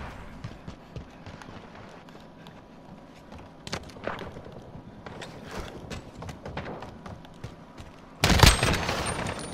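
Gunfire from the first-person shooter Call of Duty Modern Warfare on a docks map comes as scattered shots and short bursts amid rustling movement, ending in one loud, close blast.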